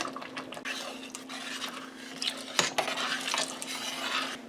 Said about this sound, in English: now we're going to stir in our quart of half and half